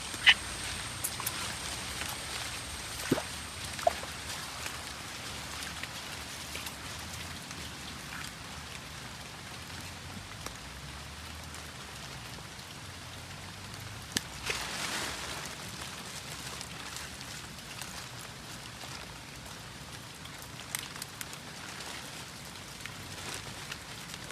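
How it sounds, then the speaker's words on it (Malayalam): Steady, dense heavy rain pattering all around in a village at low level, with occasional louder drips and taps on nearby surfaces. "നല്ല ഭയങ്കര മഴയാണ്"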